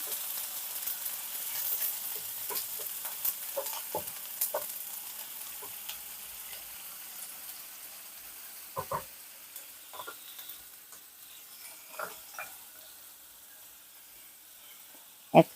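Onion paste fries in hot oil for a mixed chow mein, a faint steady sizzle with scattered soft stirring scrapes and pops, ending in one sharper clank of utensil against pan.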